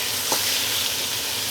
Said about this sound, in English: what I'm doing is I am stir frying my chicken